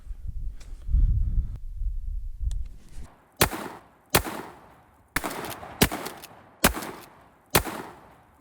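Six sharp, loud shotgun blasts from a Remington 870 or Maverick 88 pump-action, fired at clay pigeons outdoors, evenly spaced about a second apart after a few seconds of rustling and low handling noise.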